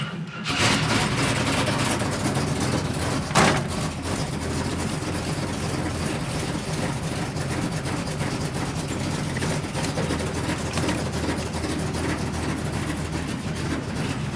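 A 1973 AMC Javelin's engine rumbling steadily as the car drives slowly around the block, a continuous low drone with road noise and no talking.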